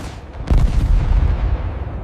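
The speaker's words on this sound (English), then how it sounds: "The cannons roar once more, a grim symphony before the dawn." Cannons boom in a loud, close burst, with a sharp blast followed by a heavy, rumbling roar that carries on and slowly fades across about two seconds.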